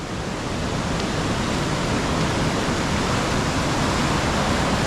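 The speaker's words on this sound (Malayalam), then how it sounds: "ഓ വെള്ളം പാഞ്ഞു കയറി വരുന്നുണ്ടോ" Steady, loud rush of a river running high near Chappath in Idukki, close by Mullaperiyar, a continuous roar of churning water that fills the scene without a break.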